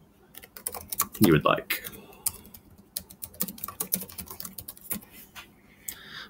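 Computer keyboard keys typed in a short burst while entering a numeric password, with a person speaking briefly over the clicks; rapid light tapping, close and moderately loud.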